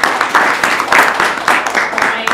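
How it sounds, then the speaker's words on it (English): Applause at a school workshop: a crowd claps steadily and fairly loudly, dense and close throughout with uneven rhythmic peaks. "a big round of applause also for the principal and for the school"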